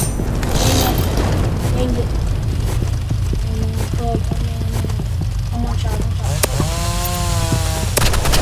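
Chainsaw revving in the Roblox-style shooter game Rivals, a steady loud buzzing drone running throughout amid gunfire bursts and busy game effects, with a voice talking over it.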